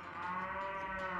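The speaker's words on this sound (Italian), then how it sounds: "Magari una mucca." A cow moos in the Miitopia video game, one sustained harmonic low call lasting just over a second, loud and alone with no talk.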